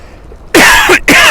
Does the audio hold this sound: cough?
yes